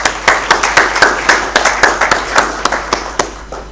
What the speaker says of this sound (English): Let's give a strong round of applause to Net One